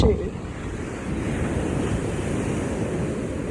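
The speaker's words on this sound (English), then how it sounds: "Now my voices might be getting drowned out by these waves" Ocean waves crash and roll on a UK shore with gusting wind buffeting the microphone, a loud continuous roar right up close with no pause.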